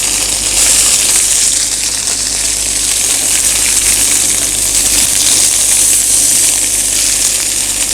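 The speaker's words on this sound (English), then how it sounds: "The idea here is we're just getting colour on these scallops." Scallops sear in a hot oiled pan, a loud steady sizzle and hiss held continuously close up, with a low hum underneath and no talking.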